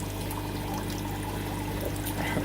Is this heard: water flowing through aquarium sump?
yes